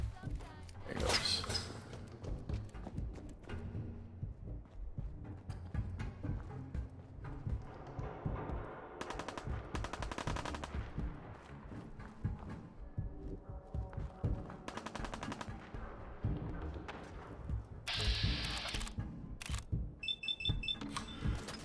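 Gunfire from a weapon in Fallout 4, scattered shots sounding through busy game noise and music, with a voice talking over parts of it.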